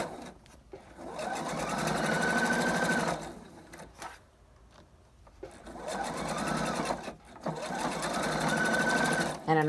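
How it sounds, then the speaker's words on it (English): Home sewing machine stitching a quarter-inch seam on a fabric face mask, two steady bursts of rapid needle chatter separated by a quiet pause, close and clear, with a voice talking over it. "I'm sewing at about a 1/4 inch seam allowance"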